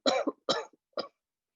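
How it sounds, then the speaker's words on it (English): Three deep, forceful coughs from one person during a yoga breathing exercise, close and evenly spaced, then quiet. "Take a deep breath in, and on the exhale, cough it out."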